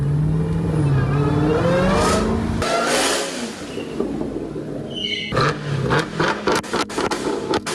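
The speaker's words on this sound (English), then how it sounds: "a motorcycle just pulls all the way up in here to the very back of the building" A motorcycle rolls up to the back of a garage building, its engine droning steadily and then shifting pitch as it slows, followed by a quieter idle broken by a few sharp clicks and knocks.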